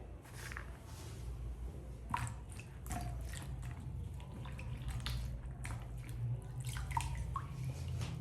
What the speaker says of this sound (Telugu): బెండకాయల్ని మంచిగా వాష్ చేసుకోండి